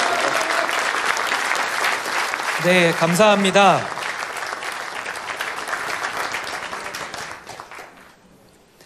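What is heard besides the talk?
audience applause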